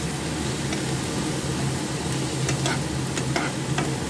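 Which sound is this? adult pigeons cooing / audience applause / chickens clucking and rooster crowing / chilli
chilli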